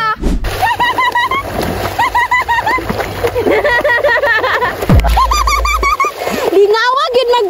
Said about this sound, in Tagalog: Tapos, magligo-ligo ko.